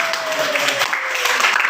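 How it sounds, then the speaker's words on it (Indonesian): Classroom students clapping for classmates after a group presentation, a short, steady burst of applause with a faint tonal whine running beneath it. "tepuk tangan untuk teman-teman ini"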